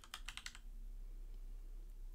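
Quick burst of computer keyboard typing, about half a dozen light keystrokes in the first half second, then quiet room hum with one faint click near the end.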